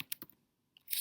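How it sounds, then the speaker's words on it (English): Several quick keystrokes on a computer keyboard, with a few isolated taps and then a dense burst of clicks as a domain name is typed in, close and fairly faint. "I am going to type in the best"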